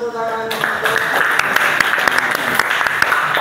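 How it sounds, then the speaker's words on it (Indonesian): A classroom full of students breaking into applause during a teaching session, dense clapping that starts abruptly and carries on steadily, close and loud, after a voice fades out at the start. "Oke, kita beri tepuk tangan."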